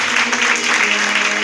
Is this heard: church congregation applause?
yes